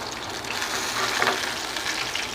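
Pieces of fish frying in hot oil over a high gas flame for a masala fish curry, a steady dense sizzle and crackle that runs continuously and close, with a slight swell midway and no talking.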